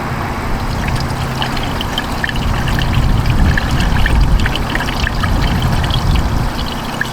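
Liquid pours in a continuous gurgling stream into a newly installed radiator in a Honda Accord, close and steady, swelling slightly midway.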